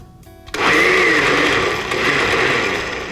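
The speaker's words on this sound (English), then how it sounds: "I'm gonna go ahead and put it in this blender so I can get it mixed up." A blender whirs to life after a short quiet start, mixing a tomato salsa base with sugar, then holds a loud, steady high-pitched grinding drone that dips slightly and swells again, with no voices.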